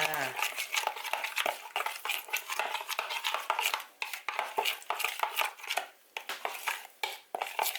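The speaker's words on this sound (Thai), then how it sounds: "แล้วก็น้ำจิ้มซีฟู้ดค่ะลงไปเลยผสมให้เข้ากันค่ะ" A spoon scrapes and clinks against a bowl as seafood dipping sauce is stirred into pork, giving an irregular run of close, clattering taps, with a voice talking over it.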